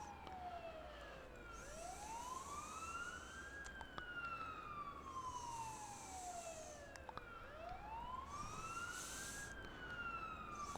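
Ambulance siren in the Ambulance Life paramedic simulator video game, a loud rising and falling wail that repeats in long sweeps over a low vehicle rumble.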